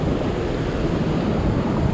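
Water from the generators at Center Hill Dam rushes and churns in a loud, continuous roar, heard from a kayak with wind buffeting the microphone.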